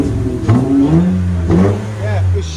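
A 2019 Honda Ridgeline Sport with a 3.5L V6, a Yokama exhaust and about 1,200 pounds in the bed pulls away hard, the engine note climbing in rising sweeps while people talk over it.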